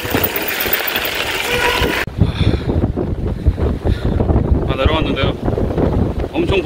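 Strong wind buffeting a microphone during a downhill mountain bike ride: loud, continuous rumbling gusts with rattling and rushing air, close and dominant throughout.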